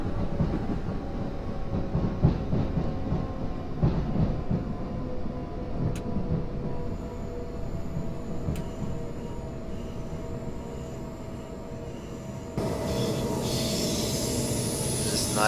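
A Class 377 Southern electric multiple unit brakes on the London to Brighton line near Clapham Junction in Train Simulator 2016, with a steady rolling rumble and faint rail clatter that shifts to a brighter, hissier tone near the end.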